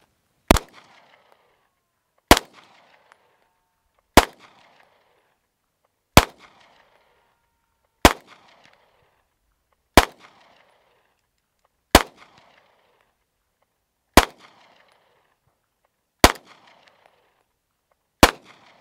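Ten sharp gunshots ring out at an outdoor shooting range, evenly spaced about two seconds apart, each a loud close crack followed by a short echo tail, with no talking in between.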